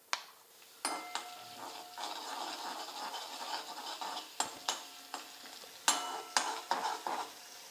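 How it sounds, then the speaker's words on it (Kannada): Green chilies and curry leaves fry in hot oil for a besan curry, a soft sizzle broken by sharp scrapes and taps of a spatula against the pan, close and fairly quiet. "ಇವು ಹಸಿಮೆಣ್ಸಿಕಾಯಿ ಸ್ವಲ್ಪ ಫ್ರೈ ಆಗಲ್ರಿ"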